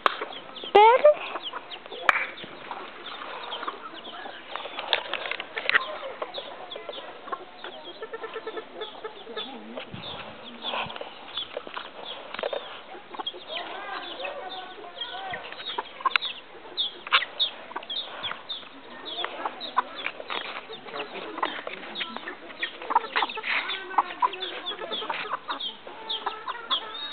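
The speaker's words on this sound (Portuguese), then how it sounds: "Olha o pintinho, olha." Outdoors, a chick cheeps repeatedly in quick, high peeping bursts that carry on steadily throughout, mixed with clucking chickens and voices nearby.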